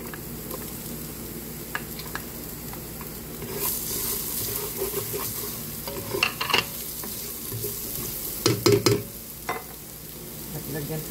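Garlic sizzles and crackles in hot oil in a pan, a steady close frying hiss with intermittent scraping and stirring knocks, louder bursts toward the end.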